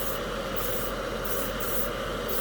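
Spray can primer hisses steadily onto a metal scale model part inside a spray booth, a continuous close, even spray across the whole stretch with no talking.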